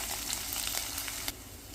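Ginger sizzling in hot oil with fenugreek seeds for a mackerel curry, a steady close crackle with small pops, briefly stirred before settling into a softer fry.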